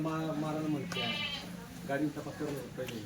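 Kathiawadi goats bleating close by in a loose series of wavering, nasal calls that overlap one another, with people talking underneath.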